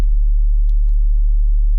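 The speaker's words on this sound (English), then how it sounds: "which is like a typical sine wave" A pure sine-wave sub bass synth tone, set to -24 and used as the sub layer in drum and bass production, holding one loud, steady, deep note with no voices.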